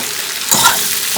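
Shrimp and potato curry being stirred in a hot pan, with a steady sizzle and a short burst of scraping and stirring partway through, close and fairly loud, no talking.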